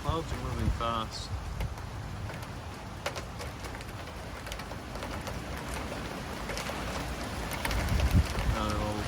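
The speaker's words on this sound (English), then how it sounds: "Winds are picking up" Strong storm winds gusting outdoors under a darkening sky, with rain spattering on surfaces; steady broadband roar throughout, swelling louder near the end, with faint talk in the background.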